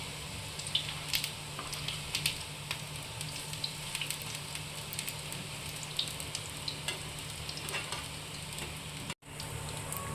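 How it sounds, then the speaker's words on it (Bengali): Gram flour fritters frying in oil, being browned on both sides, make a soft continuous sizzle with scattered crackles and pops across the whole stretch, fairly quiet and with no talking. "আমি দুপাশে লাল করে ভেজে নিব।"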